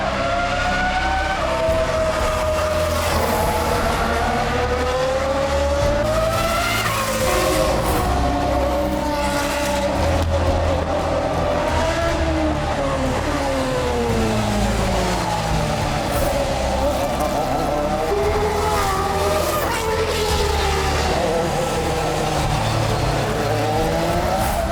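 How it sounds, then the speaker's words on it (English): A historic race car roars around the Monaco street circuit at the Monaco Grand Prix Historic, loud and close, its engine pitch climbing and falling through repeated gear changes and passes. "So this is the coolest race car of the event for me."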